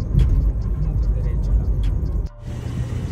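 A rented Toyota Trueno AE86 drives along a road in Osaka, with a steady low engine and road rumble heard from inside the car. The rumble dips briefly partway through while people talk over it.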